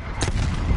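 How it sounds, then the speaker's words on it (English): Artillery strike in the video game Call of Duty: Cold War, a short, heavy, rumbling blast that fills the moment, loud and dense in the low end. "Artillery inbound."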